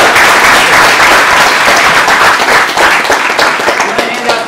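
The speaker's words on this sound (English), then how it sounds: "a round of applause for that" Loud, dense applause from an audience at a call center debate event, steady clapping throughout with some crowd voices mixed in.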